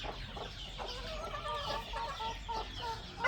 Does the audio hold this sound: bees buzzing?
no